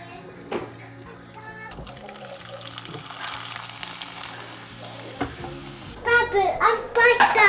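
Papad roasting in a hot tadka tempering, a steady crackling sizzle with stirring scrapes, growing busier toward the end, while a child and an adult talk nearby.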